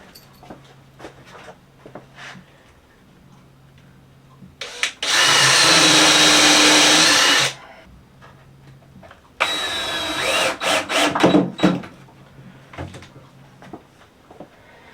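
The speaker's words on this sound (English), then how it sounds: "I'm going to put my screws up in this way, up in the corners here like this" Power drill driving screws into wood for a flower stand, two loud whirring bursts of about three seconds each, separated and followed by clatter and handling knocks.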